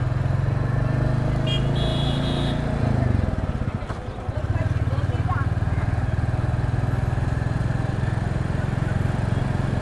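A Gunmetal Grey Royal Enfield Classic 350 rides in second gear on a muddy road, its deep, steady single-cylinder thump close and continuous, briefly dipping midway, with a voice talking over it.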